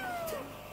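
Short, fairly faint cat meow with a descending tone and a soft room background, no one speaking over it.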